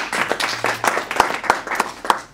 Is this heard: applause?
yes